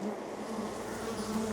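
Bees buzz steadily and close to the microphone in a continuous, even drone, with no other sounds and no voices.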